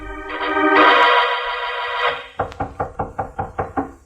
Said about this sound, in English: there was a knock on Mallard's door